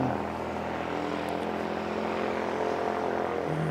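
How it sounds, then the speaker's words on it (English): A small propeller plane's engine drones steadily at a distance at an aero club airfield, a continuous buzzing roar with no voices. "Baby prop making plenty of noise"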